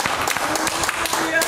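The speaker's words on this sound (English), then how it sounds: "Give the Lord a hand clap." Church congregation clapping hands together, a quick run of crisp, close claps at an uneven rhythm mixed with voices.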